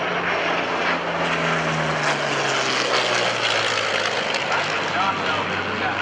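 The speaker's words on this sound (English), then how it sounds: "we've got ourselves a little fight going on. This kind of engagement, a propeller versus jet dogfight" Propeller plane and jet aircraft engines roar continuously in a dogfight display at the 2012 NAS Oceana airshow, a loud sustained drone with a slowly falling engine tone.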